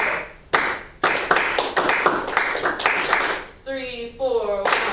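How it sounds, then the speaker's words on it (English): A group claps a counted rhythm together in unison, sharp claps landing in an uneven pattern that is repeated, followed by a short sustained musical note near the end. "So we all clap that again, our rhythm"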